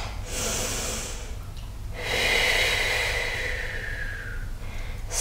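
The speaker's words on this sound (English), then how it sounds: "I told you I'd start breathing heavy." Heavy, forceful breathing during a Pilates HIIT workout, two loud close exhales or snorting breaths, the second longer and rougher, with no talk over them.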